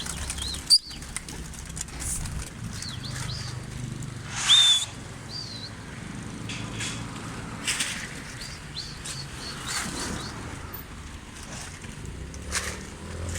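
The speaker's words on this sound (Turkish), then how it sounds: "Evet arkadaşlar kuşları çıkarttık. Kardeşimiz uçuracak." Pigeons released from a rooftop platform: a sudden burst of wing flapping with a few scattered coos and chirps, then quieter ambient noise with occasional distant flutters outdoors.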